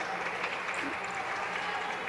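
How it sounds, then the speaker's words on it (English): Steady crowd applause fills a basketball gym as the starters for both teams are cheered during a substitution timeout at a 7th/8th grade conference game, a broad sustained clapping wash throughout. "Starters for both teams getting a nice round of applause for their efforts this early Thursday morning"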